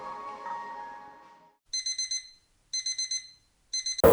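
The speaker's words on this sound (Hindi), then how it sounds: "सुबह 3 बजे अलार्म बजता है।" A digital alarm clock goes off at 3 am at a cold high-altitude campsite on the Brahmatal trek in Uttarakhand, sounding three spaced groups of rapid high beeps after a fading tone, close and clear.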